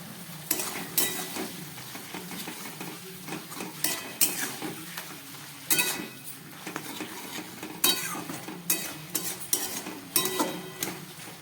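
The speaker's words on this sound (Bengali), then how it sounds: "এবার একটু ভালো করে নেড়ে চেড়ে তারপর নামিয়ে নিতে হবে।" Chickpea greens are turned over in a frying pan, a utensil scraping and knocking against the metal in irregular bursts over a soft, steady sizzle, close by and without speech.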